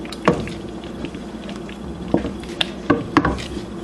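Meatballs are stirred in a pot of tomato sauce with soft wet squishes and light knocks of a spoon against the pot, several brief scrapes and taps close by.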